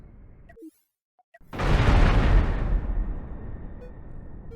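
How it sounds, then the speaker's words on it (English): A spaceship reactor explodes in a video game after a short silent gap, a sudden loud, broad blast that roars and then slowly decays into a long rumbling tail. "And do the reactor explosion test."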